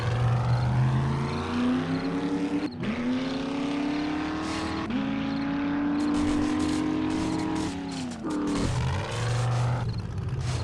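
Jeep engine driving in the video game 7 Days To Die, a loud, steady motor drone that shifts pitch through gear changes and revs, with the engine note dipping and climbing again several times.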